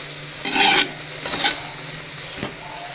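Chicken being stirred in a pan while cooking a Kerala-style teeyal, with two scraping strokes early on and a shorter clack near the end, close up and alone.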